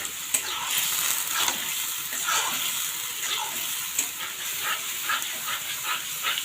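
Onion and turmeric stir-frying in a pan as the base for fried beef brain, a steady close sizzle with scraping stirs throughout and no talk.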